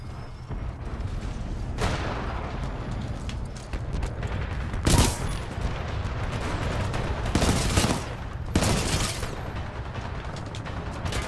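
Continuous gunfire during an online Attrition match in Titanfall 2, with sustained rattling fire and several sharper, louder bursts standing out every couple of seconds.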